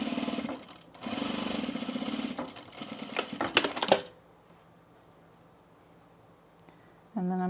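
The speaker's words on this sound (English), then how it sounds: "I'm going to sew this at 3/8 of an inch seam" A sewing machine runs a fleece pullover seam in two bursts of steady, fast stitching with a short pause between, followed by quiet handling and a final brief start.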